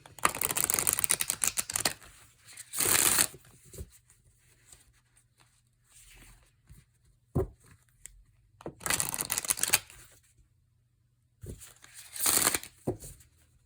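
A Hay House card deck being shuffled in several brisk riffling bursts, close and crisp, separated by quiet pauses with a few soft taps and handling noises.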